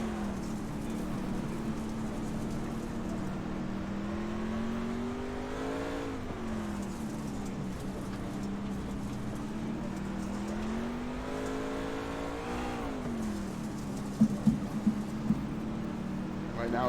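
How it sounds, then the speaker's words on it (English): A dirt race truck at the Chili Bowl indoor track is heard from an onboard position. The engine drones steadily and loudly, rising and falling in pitch as it laps, with a few sharp clicks near the end. "We're going to ride with Showtime Shane Kelly around the Chili Bowl in the truck."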